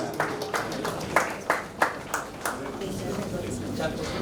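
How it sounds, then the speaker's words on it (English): An audience applauds a student called to the stage at a CBSE school award ceremony, with a rhythm of scattered claps mixed with voices and room noise. "Let's give him a huge round of applause."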